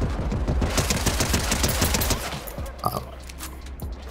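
Rapid automatic gunfire in a Fortnite match, with a dense run of shots for about two seconds that then breaks off, followed by a few scattered impacts and game effects, loud and continuous.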